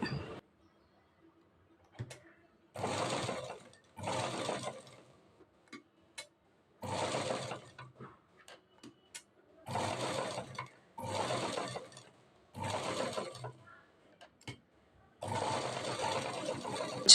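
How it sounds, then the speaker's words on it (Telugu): A sewing machine stitches tucks on a princess-cut blouse in a series of short, close, evenly spaced bursts of rapid whirring, with small clicks and fabric handling in the quiet gaps. "ఇప్పుడు రిటర్న్ చేసుకొని మళ్ళీ టక్స్ దగ్గర ఒకసారి ఇలా నీడిల్ ప్రెస్ చేసి ఇప్పుడు మళ్ళీ కుట్టుకోవాలి."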